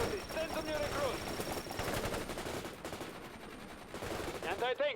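Dense machine-gun bursts and rifle fire crackle continuously through a World in Conflict battle, loud and close, with shouted voices cutting in over the shooting.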